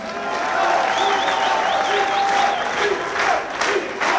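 Stormy applause for a singer from a studio audience, a steady wash of clapping with some cheering, sustained and fairly loud throughout, with a faint voice or tone threading through.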